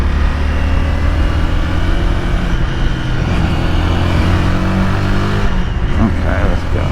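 Honda Rebel 300 motorcycle held in fifth gear while pulling away from a green light, a steady engine drone with rising tones under continuous wind buffeting, loud and close, with someone talking over it.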